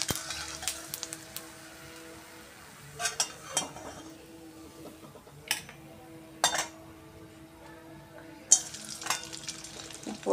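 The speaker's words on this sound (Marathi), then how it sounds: "आता आपण तळून सुद्धा बघणार आहे चकल्या।" Potato and sago chakli fry quietly in hot oil, a soft sizzle broken by occasional sharp clinks and scrapes of utensils against the pan, with no talk.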